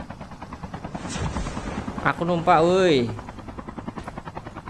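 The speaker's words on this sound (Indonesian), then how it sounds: "Helikopter kita di sini." Helicopter in Call of Duty Mobile, its rotor thumping steadily all the way through, with bursts of gunfire and a player talking over it.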